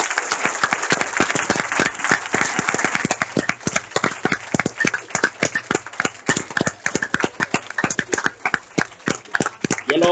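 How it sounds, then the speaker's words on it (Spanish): An audience gives a big round of applause at the close of a talk with an Open Arms guest. Dense, steady clapping fills the whole stretch with sharp individual claps popping out. "le damos un aplauso muy grande"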